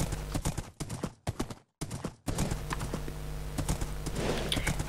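Horse hooves clip-clop in the Minecraft console game, a run of quick rhythmic clops broken by a short silent gap, then continuing steadily and close with faint game ambience underneath.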